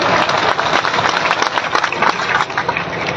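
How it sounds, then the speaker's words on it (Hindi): A crowd at a protest rally in Karnal claps loudly and steadily, welcoming a society's general secretary to the stage, with dense applause filling the space throughout. "तालियों के साथ में स्वागत करते हैं।"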